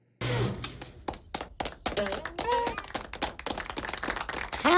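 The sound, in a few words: clapping in a VeggieTales episode clip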